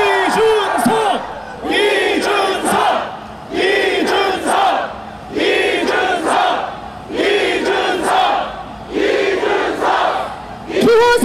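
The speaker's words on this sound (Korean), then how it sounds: "여러분 더 큰 함성을 보내주십시오." A large crowd at a political rally in Gwanghwamun, Seoul, roars and shouts in repeated loud surges, each wave of cheering swelling and dropping in a steady rhythm, close and dense.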